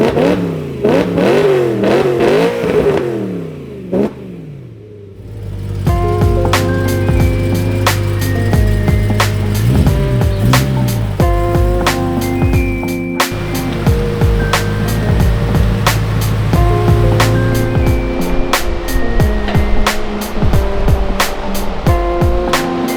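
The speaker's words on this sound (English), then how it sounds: "I'll give it a couple quick revs" A BMW E92 M3 V8 with an upgraded exhaust is revved hard, first in a few quick rising and falling blips and then in a long sustained high-rpm roar with crackles, loud and close throughout.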